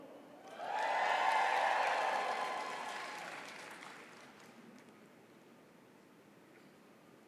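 A graduation commencement audience at CU Denver bursts into loud cheering and applause that swells quickly, holds for a couple of seconds, then fades to a scattered murmur.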